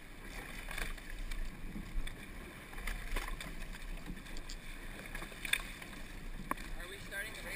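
A novice eight-person rowing boat moves along a creek before a head race, with soft rhythmic splashes and oar strokes under steady wind noise and light water movement.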